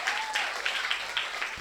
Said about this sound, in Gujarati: પહેલાં તો તમે બધા તમારા માટે તાળીઓ પાડો